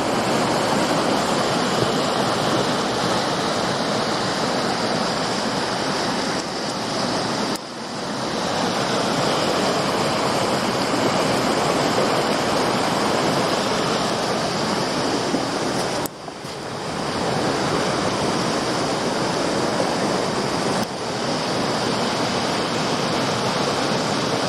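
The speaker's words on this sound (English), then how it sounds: "if I can go next to the waterfall as well" A waterfall in a valley gives a continuous, dense roar of rushing water, loud and close. The steady wash dips briefly a few times. No voices are heard.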